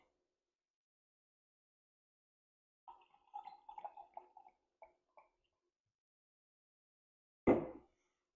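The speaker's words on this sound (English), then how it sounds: "So let's give it a pour and see what we get." Sour beer from California poured out of a corked bottle: a run of soft glugging and trickling splashes into a glass, close and fairly quiet, then a brief louder thud or clink near the end.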